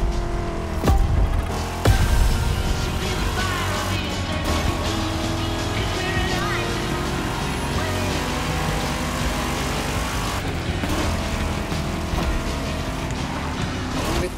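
Vintage cars in the racing game The Crew Motorfest drive with a steady, continuous engine drone, a few sharp bumps early on, and no voices.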